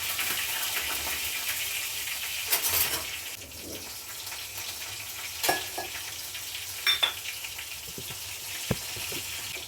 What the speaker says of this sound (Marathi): दोन मिरच्या टाकते थोडस तिखटपणा यावा म्हणून